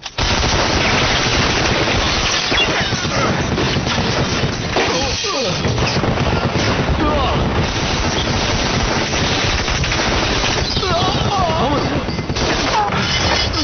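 Heavy war-movie gunfire fills the scene, dense machine-gun bursts and shots at full loudness with crashes and booms mixed in, while voices shout underneath.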